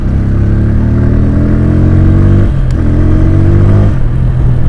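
A Bajaj Pulsar N150 motorcycle runs in fourth gear with a gearing problem, its loud, close engine droning steadily with a brief dip and shift in pitch midway.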